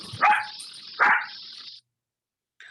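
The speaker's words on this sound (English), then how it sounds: "What sense did you use to identify the sound that this dog was making?" Little puppy dog giving two sharp, close barks about a second apart, each trailing into a whine, then silence and a brief faint sound at the end.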